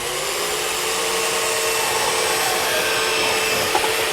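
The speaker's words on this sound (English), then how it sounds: "Now we're gonna cut some PVC, see how that works." A DOVAMAN portable bandsaw cuts through PVC pipe with a loud, steady, close motor whine and blade hiss that holds constant from start to finish.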